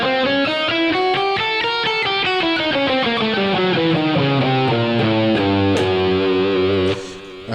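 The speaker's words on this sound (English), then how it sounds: "Another option that you can use is a half whole scale" Overdriven electric guitar runs through a quick, steady stream of notes in a half-whole scale with a slight effects sheen, loud and unbroken, ending with a brief fade.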